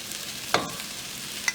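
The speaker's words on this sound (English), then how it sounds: "And you're going to have to stir this." Vegetables dusted with flour stirred in a pan for shrimp stew, giving two brief sharp utensil scrapes against the pan over a quiet, steady background.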